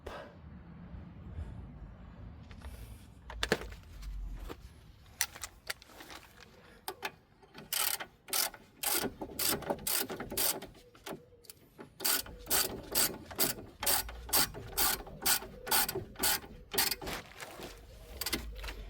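A ratchet wrench tightens the brake caliper bolts on a Hyundai i30 during a disc and pad replacement, sparse clicks at first, then a steady run of loud, close pawl ticks in short strokes.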